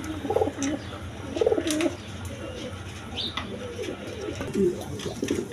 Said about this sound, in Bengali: দর্শক এইখানে এক পেয়ার লাহোরি কবুতর আছে দেখেন